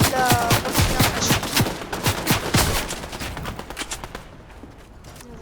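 Rapid bursts of gunfire in the Fortnite video game, a dense string of sharp shots that thins out and fades over several seconds, with a voice faintly under it.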